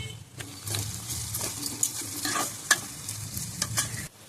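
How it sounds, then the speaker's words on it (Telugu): Onions with salt sautéing in a pan for a tripe curry, a steady sizzle of frying broken by repeated scraping stirs of a spoon, close and fairly loud with no talking. "అక్కడ ఉల్లిపాయలు అయితే మగ్గుతున్నాయి"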